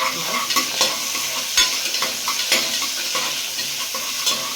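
Sliced big onions and round dried chilies sauté in a pan, a continuous sizzle broken by repeated scrapes and knocks of a spoon stirring, close and fairly loud.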